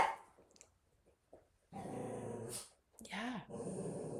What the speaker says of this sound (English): The older dogs are defensive towards the puppies, even though they were just playing.